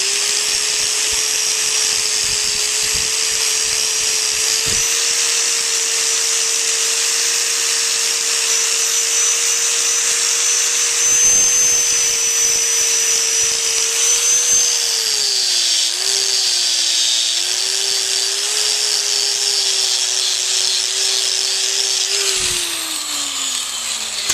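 A power polishing wheel working a copper bamboo garden joint, a loud continuous high whine that holds steady, dips slightly in pitch under load and winds down at the end, with no talk.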